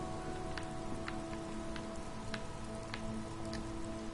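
Steady rain falls in the video game Disco Elysium, a continuous wash of patter with scattered sharper droplet ticks, even and moderately close, with a faint low hum running underneath.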